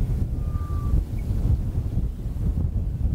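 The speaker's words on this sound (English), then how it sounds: "That wind's picking up." Gusty wind at an outdoor shooting range buffets the microphone with a steady, loud low rumble that swells and eases throughout, with no talking.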